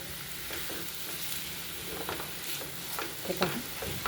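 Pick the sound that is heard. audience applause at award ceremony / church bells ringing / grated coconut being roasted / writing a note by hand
grated coconut being roasted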